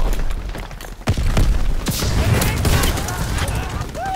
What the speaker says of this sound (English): killing me with the freaking incendiary shell shotgun